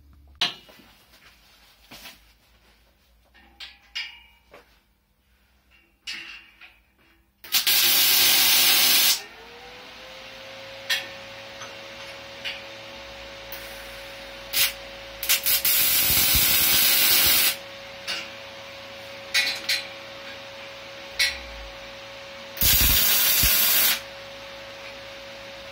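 Steel angle pieces being cut for shed shelving, with loud bursts of abrasive grinding and cutting separated by short pauses, then a long steady tone that carries on in the background, with a couple more cutting bursts near the end.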